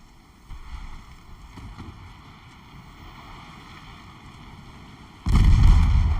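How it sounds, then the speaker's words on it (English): A torpedo strikes a warship in the naval strategy game Ultimate Admiral Dreadnoughts, set around 1920-1930: a sudden loud, heavy explosive boom that bursts in near the end and rumbles on over a steady low ambient hum. "Of course she maneuvers right into a torpedo."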